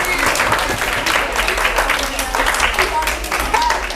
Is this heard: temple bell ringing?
no